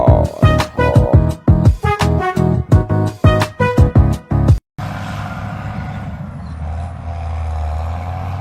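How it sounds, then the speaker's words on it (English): A miniature tractor engine works hard hauling sand in a small-scale construction setup. Rhythmic pulsing bursts give way to a steady, close, droning hum. "Now the tractor is working hard and hard."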